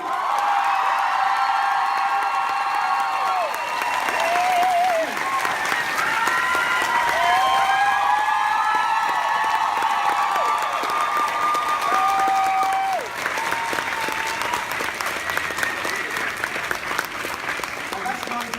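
Loud, sustained applause and cheering from a convention crowd honoring the guests at Sherlocked USA 2017, with whoops and shouts rising over continuous clapping throughout, and voices mixed into the din.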